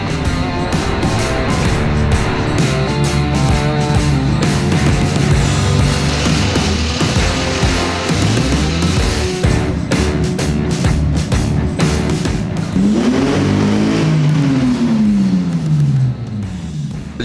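A 2JZ-GTE engine in a Lexus SC300 that is running a little rough, heard loud and close as it idles and revs repeatedly, with one long rising and falling rev near the end.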